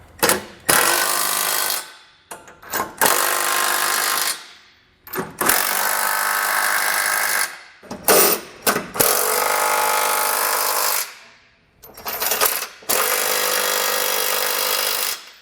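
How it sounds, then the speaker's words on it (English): A socket tool snugs down the hardware of a Curt trailer hitch receiver on a 2021 Subaru Forester, in repeated loud whirring bursts of a second or two each, separated by short pauses, close by and with no talking. "we can come back with a socket and snug everything down"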